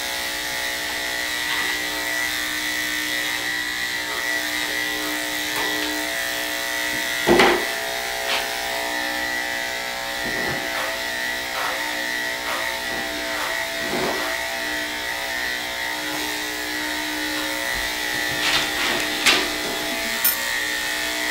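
Electric clippers buzz steadily while trimming a Cocker Spaniel's coat during a creative groom, a close, continuous motor hum with occasional louder bumps as the blade moves over the fur.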